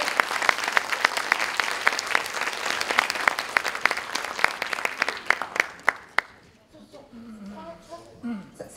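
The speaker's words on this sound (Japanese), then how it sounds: "皆様拍手でお願いします。" Steady, loud applause from a large audience at a lecture fills the room for several seconds, then breaks off into quiet with a few faint sounds afterward.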